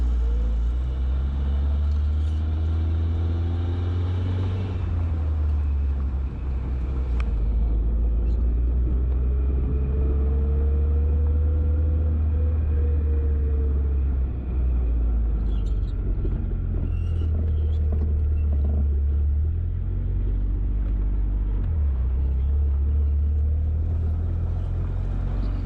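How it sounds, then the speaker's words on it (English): An old Italian sports car on a test drive, a steady low engine rumble heard from inside the cabin, droning continuously throughout with shifting revs and some faint talking. "We're gonna go for our first test drive on this car after we did all the repairs."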